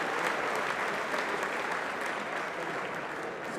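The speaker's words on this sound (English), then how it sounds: "And that's an applause for us." An audience at RoboCup 2024 applauds in a dense, steady burst of clapping that holds at an even level for several seconds, with no voices standing out over it.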